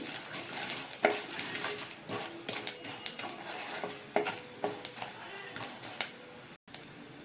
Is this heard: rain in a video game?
no